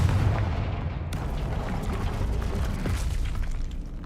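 Confringo spell explosion in Hogwarts Legacy, a heavy blast and rumbling boom that roars loud at first then churns and settles into a fading debris-like rumble, with no talk.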